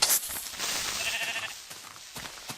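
A Minecraft sheep gives a couple of short, clear bleats up close, fading slightly toward the end.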